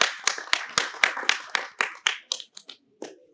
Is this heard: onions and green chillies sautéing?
no